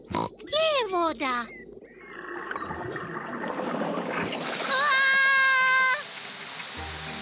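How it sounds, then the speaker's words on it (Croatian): Cartoon garden hose spraying water onto a muddy car, a hissing spray rising midway and running to the end beneath squealing, high-pitched cartoon pig voices and chatter. "Pepa je držala crijevo, a tata je otvorio vodu."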